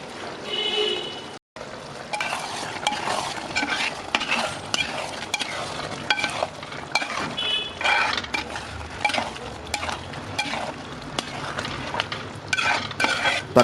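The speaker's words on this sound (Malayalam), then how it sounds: "ചിക്കൻ ഒന്നുകൂടി ഒന്ന് നന്നായിട്ട് മിക്സ് ചെയ്തതിന് ശേഷം" A spoon stirs chicken masala in a pan as it sizzles, with repeated scraping strokes over a constant frying hiss, close and moderately loud, and a short break near the start.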